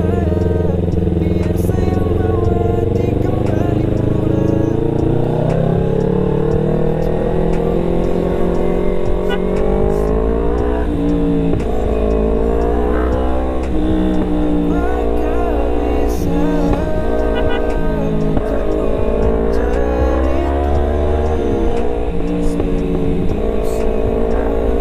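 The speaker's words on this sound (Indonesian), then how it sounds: "Ini mobil gede banget ya, ngabisin jalan anjay." A big car rumbling along a narrow road past the listener, a loud continuous engine drone with shifting pitch, heard close and steady throughout.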